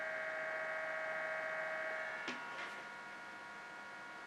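A Humpun dehumidifier: a faint, steady electrical hum drones alone, then a soft click and the tone drops to a quieter, lower background whir.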